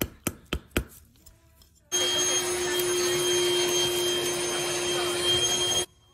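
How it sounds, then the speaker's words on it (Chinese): A household vacuum cleaner sucks up hardened construction adhesive chipped off a subfloor after carpet removal, running as a loud steady whine for about four seconds, preceded by a few sharp knocks and ending abruptly. "现在呢用吸尘器把刚才敲打下来的那些强力胶给它清除干净"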